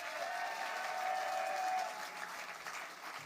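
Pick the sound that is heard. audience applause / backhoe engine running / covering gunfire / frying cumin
audience applause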